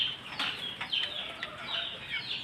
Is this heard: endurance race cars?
no